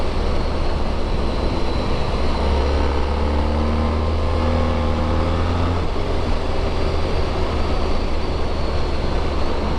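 A Honda ST1300 motorcycle cruises along open, twisty roads, its engine a constant low drone blended with heavy wind rush, with slight pitch shifts as it rides on.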